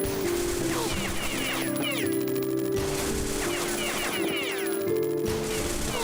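Pistol shots fired in a shooter video game, sharp single reports scattered among game sound effects and a steady background music bed, with a voice talking at times.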